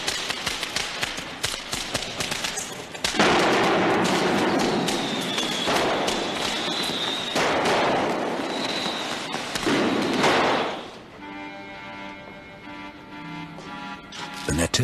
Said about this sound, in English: indoor firework display had self-ignited